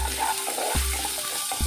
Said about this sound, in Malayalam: നന്നായിട്ടൊന്ന് വഴറ്റാം.